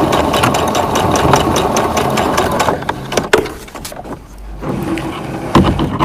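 A sewing machine stitches back and forth while sewing a fabric face mask, its rapid mechanical whirr running loud and steady, then stopping briefly and restarting near the end.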